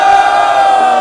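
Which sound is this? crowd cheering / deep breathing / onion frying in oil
crowd cheering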